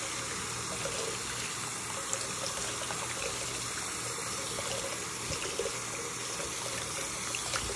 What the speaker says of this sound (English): let me rinse it off real quick.